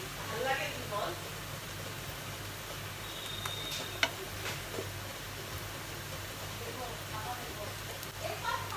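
Chow mein noodles with homemade sausage stir-fry in a pan as sauce goes in, a soft steady sizzle with occasional scrapes and taps, while a person talks over it.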